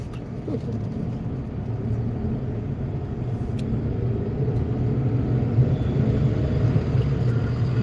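Continuous road traffic rumble from passing cars and other vehicles, a steady, fairly loud low drone that holds evenly throughout with no clear breaks.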